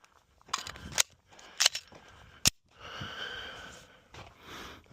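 Glock 17 Gen 6 pistol firing on a range: three sharp, loud reports spaced about a second apart, each a brief crack, followed by a longer rushing noise.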